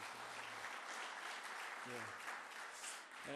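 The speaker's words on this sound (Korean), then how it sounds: "우리 박수로 한번 해주세요" A church congregation breaks into sustained applause, a dense, even wash of clapping lasting several seconds, with a voice faintly heard underneath.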